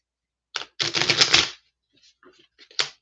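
A deck of tarot cards is shuffled in a quick riffling burst of papery flutters, followed by a few soft taps and a final brief shuffle, close and fairly quiet.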